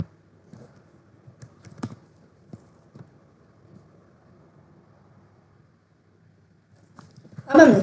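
Sparse, light keystrokes on a computer keyboard while entering Python code, soft clicks scattered across a quiet room, ending in a louder burst of noise.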